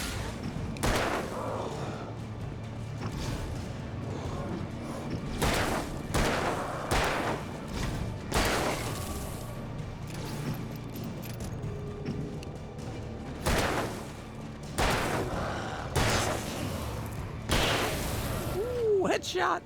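Gunshots in the Alan Wake video game ring out as repeated sharp bursts spaced through the scene, some in quick pairs, over steady background ambience with a voice talking between them.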